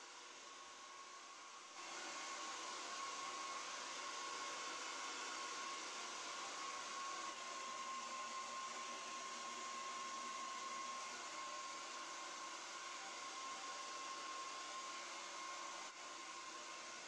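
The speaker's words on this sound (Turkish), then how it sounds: "Hemen saçlarımı bir kurutayım." A hair dryer blows on someone's hair, a loud, constant airy whir with a thin steady whine. It switches up to full power after about two seconds and runs unbroken, alone and with no talk.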